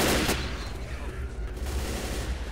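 Gunfire in the zombie shooter Left 4 Dead, a dense burst of rapid shots at the start followed by continued rattling fire, with a voice speaking over it.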